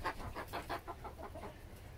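Five-month-old Exchequer Leghorn chickens cluck in a quick, steady series of short pulses, close by against a low background hum.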